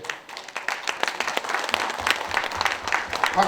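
A congregation at a New Year revival church service claps along, rapid overlapping handclaps at a moderate level that build gradually and keep a loose rhythmic pulse, with low sounds underneath toward the end.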